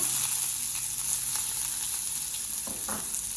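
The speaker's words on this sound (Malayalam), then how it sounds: "അതിലോട്ട് നമുക്ക് സവോള ഇടുക." Sliced onion fries in hot oil with mustard seeds in a pan, a loud, continuous close sizzle with faint stirring scrapes and no talk.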